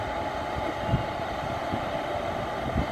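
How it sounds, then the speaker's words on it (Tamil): Overhead-wire electric train beginning to roll out of a station, a loud steady rumble broken by a few low thumps as the wagons move, heard up close with no speech. "train start ஆகிடுதுங்க"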